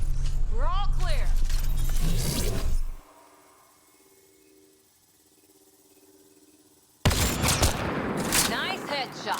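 Gunfire in Mass Effect: Andromeda: loud, close bursts of shots with whooshing effects fill the opening seconds, then a quiet humming lull, then another heavy volley, with voices speaking over the action.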